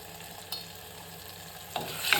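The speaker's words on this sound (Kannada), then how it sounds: "ಸ್ವಲ್ಪ ಫ್ರೈ ಮಾಡಿಕೊಂಡು ಸೋಯಾ ಕಾಳು" Soya chunks fry in a pan with coriander and cumin powder, giving a soft continuous sizzle broken by a few sharper stirring scrapes near the end, close and without any talk.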